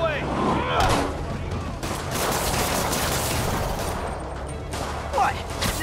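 Rockets fire and explode in Marvel's Spider-Man video game, a dense barrage of loud booms and blasts that rumble on without pause, with a couple of sharper hits standing out.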